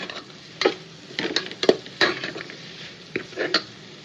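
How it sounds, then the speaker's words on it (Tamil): Vegetables with spice powder are stirred and sautéed for pulao: sharp metallic clinks and scrapes of a ladle against the pan come in irregular bursts over a faint sizzle, close up. "போட்டு நல்லா வந்து வதக்கிக்கலாம், மிக்ஸ் கொடுத்துக்கலாம்"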